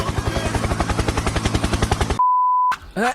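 Loud, steady rhythmic thumping of helicopter rotors, abruptly replaced by a flat electronic beep tone, then a brief voice.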